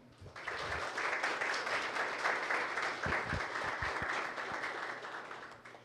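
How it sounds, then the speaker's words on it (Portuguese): Applause at a consumer defense commission ceremony in Angra dos Reis for a state deputy, a steady crowd clapping that holds evenly for several seconds with a few louder claps near the end. "uma salva de palmas para o nobre deputado estadual Marcelo Dino"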